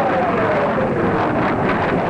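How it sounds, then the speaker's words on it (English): A British jet aircraft makes a low-level, record-speed pass over desert near Tripoli, a loud continuous roar carrying a steadily falling whine, with no voices. "The jet makes the first of four low-level passes."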